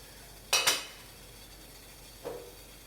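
A metal lid comes off a pot of steamed sago balls with a sharp double clank, then a single softer knock follows a moment later in an otherwise quiet kitchen.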